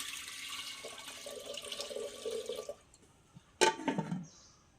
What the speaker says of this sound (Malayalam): അപ്പോൾ ഇത് വെള്ളം ഒഴിച്ചു കൊടുക്കാം